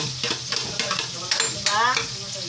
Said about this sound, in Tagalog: Nilagyan na natin ang sibuyas.